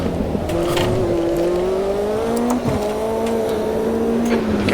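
A P3 race car engine in Automobilista 2 at Londrina Long, steady and loud with high revs, several brief shifts or lifts, and a continuous drone throughout with no talk.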